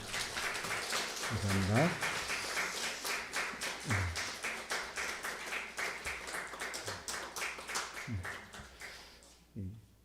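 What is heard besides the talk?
applause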